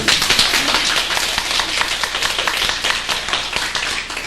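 An audience at a Buddhist lecture on the Vimalakirti Sutra claps loudly and steadily, a dense, continuous patter of many hands that holds its level throughout with no talk over it.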